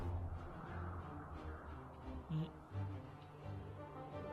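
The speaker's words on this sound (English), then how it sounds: "Look at the birds!" Crows cawing in the fantasy video game The Dwarves, several harsh calls scattered over a steady low ambient game soundscape with music-like drones, moderately loud and fairly close.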